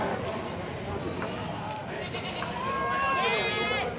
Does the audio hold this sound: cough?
no